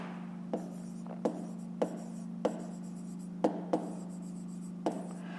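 A pen writes on paper while working a fifth-grade math exercise, giving a series of short, distinct scratching strokes at uneven intervals over a steady low electrical hum, with no talking.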